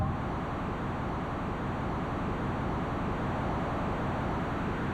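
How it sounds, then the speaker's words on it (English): Steady, dense hiss-like digital noise loops inside a 4MS SMR synth module, droning continuously at low volume with no clear pulse or variation. "There's a looping digital noise inside of the module."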